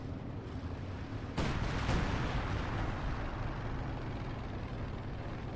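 A coordinated artillery barrage in Company of Heroes 2 lands with a sudden loud boom, a second blast right after, and a long rumbling tail under steady battlefield noise.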